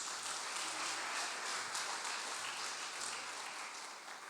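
A church congregation claps during a Portuguese-language sermon, a steady wash of applause that is fairly faint and even throughout.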